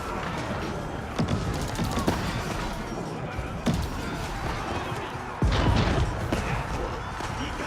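Hand cannoneers and bombards firing in an Age of Empires 4 battle, a dense continuous clatter of gunfire and cannon booms with sharper louder blasts near 1.2, 3.7 and 5.5 seconds, steady throughout.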